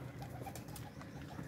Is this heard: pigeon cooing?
yes